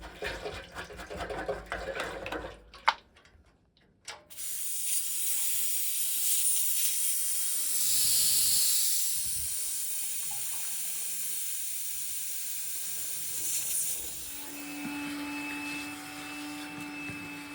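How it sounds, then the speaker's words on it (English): A vacuum cleaner hoovers up after radiator replacement work, a steady loud whooshing hiss that swells and fades as the nozzle moves, preceded by clattering handling noise and ending with a whining motor tone. "and hoover up"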